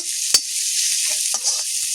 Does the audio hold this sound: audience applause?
no